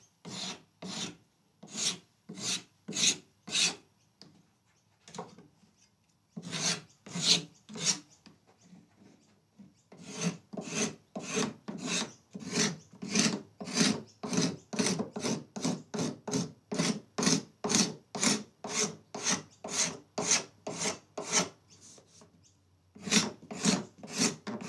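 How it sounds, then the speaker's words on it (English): Steel scraper shaving wood on a guitar neck during a carve, in long runs of quick, evenly spaced rasping strokes up close, with brief pauses between bursts and no talk. "Here are our scrapers. I'll use the straight edge first."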